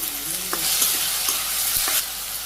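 Okra being stir-fried in a pan, seasoned with salt, turmeric, dried chili powder, green chilies and onion: a steady, close hiss of frying with a few scraping stirs of a utensil against the pan.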